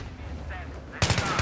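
An M4A1 carbine in Battlefield 3 fires a short, loud burst of rapid shots, breaking in suddenly near the end after a quieter moment.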